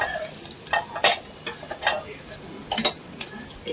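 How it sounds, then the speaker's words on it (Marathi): Onion frying in oil with chilli powder being stirred in a pan, a light sizzle under repeated scraping and clinking strokes of a spoon, close by. "कांदा थोडासा परतला, तेल थोडंसं घ्या"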